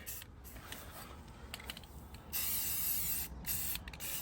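A spray can lays a light base coat of tan paint on a rifle, soft airy hissing broken by short pauses, then a louder sustained burst of spray near the end, all quite close and without speech.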